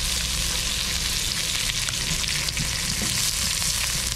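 Ginger sizzles steadily in a hot pan, a loud, even frying hiss with faint stirring scrapes throughout.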